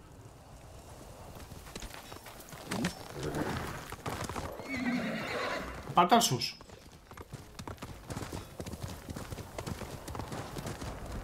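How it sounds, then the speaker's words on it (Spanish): A horse in the samurai game Ghost of Tsushima sets off, with clip-clop hoofbeats, a loud whinny partway through and galloping steps continuing under spoken dialogue. "Arranco el caballo."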